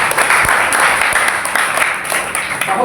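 Sustained applause from an audience at a Sanskrit Day college event at a women's university, dense and steady clapping filling the whole stretch at high level.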